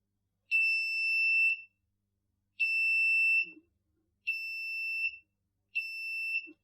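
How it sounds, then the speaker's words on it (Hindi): The buzzer on a metal detector kit gives four shrill, piercing electronic beeps, each lasting about a second, separated by short silences. "एक बजर है जो बीप करेगा"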